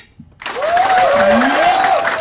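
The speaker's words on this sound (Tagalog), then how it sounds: "okay ba nang bigyan ng masigabong palakpakan?" A business presentation audience bursts into sample applause after a brief quiet moment, sustained broadband clapping from a crowd that holds steady, with a faint tonal voice-like line riding over it.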